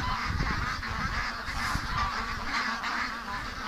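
Muscovy ducks call repeatedly outdoors, a run of overlapping honking and quacking notes at moderate distance, with rustling and movement underneath.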